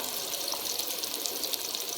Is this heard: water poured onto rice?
yes